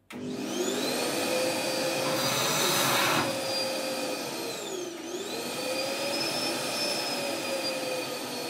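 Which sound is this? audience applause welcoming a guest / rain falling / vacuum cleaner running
vacuum cleaner running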